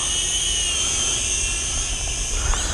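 An FQ777 FQ24 foldable drone buzzes loudly and steadily as it takes off and flies, a high, constant propeller whine close by with no talk.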